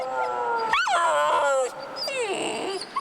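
Detection dogs in transit whimper and howl in high, sliding whines, two drawn-out cries close to the microphone over a low, steady background rumble.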